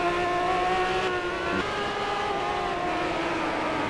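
A race car engine in Project CARS, driven on a figure-of-8 circuit during a live event race final, drones loudly and continuously, its pitch shifting as the car holds and changes speed.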